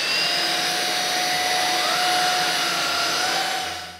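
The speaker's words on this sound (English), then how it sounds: "The first thing that impressed me about this vacuum cleaner is it's so lightweight" A PrettyCare cordless vacuum cleaner runs steadily in a home, a loud continuous whine and airflow roar with a high motor tone, winding down slightly at the end.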